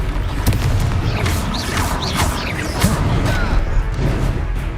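Confringo spell in the Hogwarts Legacy video game, with repeated crashing blasts, thuds and whooshes over a dense, continuous rumble of combat effects.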